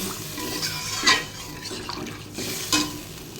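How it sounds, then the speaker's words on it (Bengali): Cold water poured into a pan of fully cooked spice masala gives a brief splash and gurgle, with two soft clinks or stirs near and fairly quiet in a kitchen. "মশলাটা আমার পুরো কষা কমপ্লিট হয়ে গেছে এবার আমি জল দিয়ে দেবো ঠান্ডা জল দিলাম"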